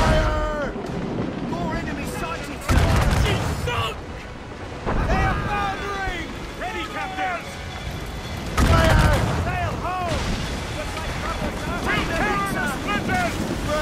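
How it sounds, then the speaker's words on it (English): Booming ship cannon blasts in the video game Assassin's Creed Rogue recur every few seconds amid a roar of wind and crashing water, with shouting voices throughout in a chaotic sea battle. "Man the cannons!"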